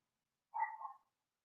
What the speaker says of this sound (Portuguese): Não se assuste que tem um cusco acuando aí.